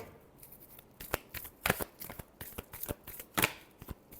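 Tarot cards being shuffled in a quick series of crisp riffles and slaps, several sharp bursts spread over a few seconds, close and clear with no talking.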